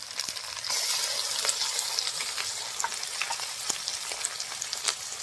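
Onion paste dropped into a hot pan of oil in a rural village kitchen, bursting into a loud, steady crackling sizzle that continues close and alone.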